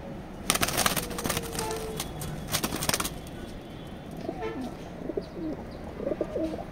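Racing pigeons in a loft give soft, low cooing calls in the second half, with rustling, fluttering wings and sharp handling clatter earlier on, all close and moderately loud.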